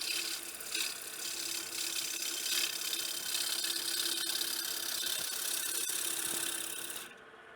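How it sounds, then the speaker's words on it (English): A gouge cutting a wooden bowl on a lathe, throwing curly shavings: a steady rough rasping scrape that holds for about seven seconds before stopping, no talking. "I'm getting nice curly shavings there, and that's a sign of a good cut."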